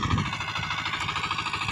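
Engine of a shallow-well water pump on an onion farm in Ilocos, running with a steady, close, throbbing drone and regular pulsing chug throughout.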